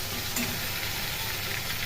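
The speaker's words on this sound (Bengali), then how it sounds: "মাছটা ভাজা ভাজা হোক" Fish frying in a pan gives a dense, steady, close sizzle that fills the short moment without any break.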